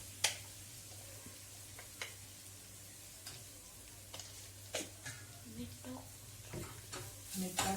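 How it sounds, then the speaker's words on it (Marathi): Tomatoes with sambar masala, red chili, turmeric and salt stirred in a pan for sambar, giving faint scrapes and soft sizzling, with scattered spoon taps growing busier toward the end over a steady low hum. "त्याच्यामध्ये सांबर मसाला आणि लाल तिखट, हळद आणि चवीपुरतं मीठ हे टाकून सगळं व्यवस्थित मिक्स करून घेऊ"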